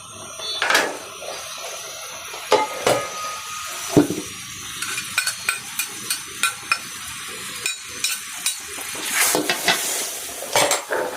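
Curry paste for choo chee fish curry with climbing perch is stir-fried in a pan at home, giving a soft sizzle with repeated scraping and clinking of a utensil against the pan.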